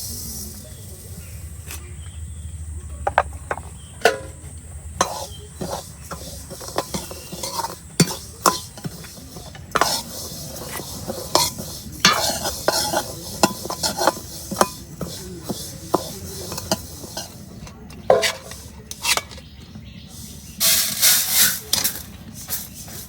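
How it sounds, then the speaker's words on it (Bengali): Mung dal dry-frying for khichuri in a pan, stirred with a utensil that scrapes and clatters in repeated short strokes, with a faint sizzle underneath. "খিচুড়ির জন্য মুগ ডালটা ভেজে নিচ্ছি"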